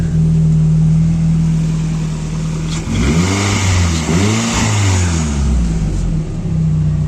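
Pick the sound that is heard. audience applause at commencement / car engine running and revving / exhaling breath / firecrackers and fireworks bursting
car engine running and revving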